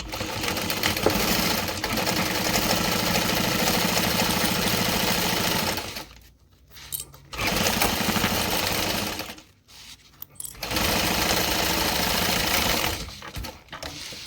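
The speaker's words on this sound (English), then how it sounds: "Make sure you backstitch at the beginning and end, and we repeat for the other side." Sewing machine stitching a garment seam with backstitching, a loud, fast mechanical rattle running in three long bursts separated by brief quiet pauses, close up with no talking.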